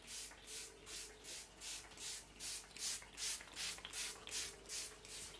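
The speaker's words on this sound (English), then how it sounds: "you spray the leaves of your peace lily." Repeated spray-bottle pumps mist water onto peace lily leaves, about a dozen rhythmic hissing bursts spaced evenly, close and fairly loud with no talk.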